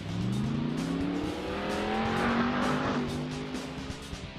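An American muscle car mod in the Assetto Corsa racing game revs and accelerates, its engine note rising through gears with a brief tire squeal. The sound is close and continuous, with no talking.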